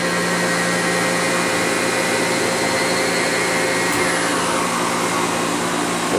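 A Wit-O-Matic 500 honing machine working cutting inserts in a machine shop, a loud, steady, unbroken whirring roar that holds constant throughout, with no voices.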